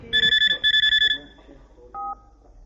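A phone being dialed indoors: a quick run of loud keypad tones in two bursts, then a single softer tone, with background murmur underneath.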